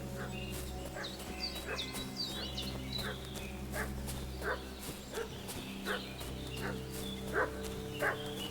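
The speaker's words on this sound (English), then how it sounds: "What's that dog making such a fuss about?" A dog in the medieval video game Kingdom Come: Deliverance II barks again and again at a distance over a steady low ambient drone, its sharp yips and woofs spaced irregularly throughout.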